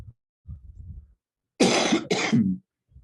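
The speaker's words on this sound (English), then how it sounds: "Cough it up, bro." Two harsh, close coughs in quick succession follow a soft murmur, loud and raspy against an otherwise quiet background.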